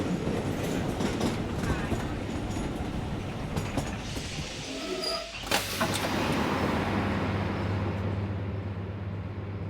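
A train pulls into South Station, a steady rumbling roar with rail clatter that briefly dips before a sharp clack and then a continuing hum of the railcar, loud and close.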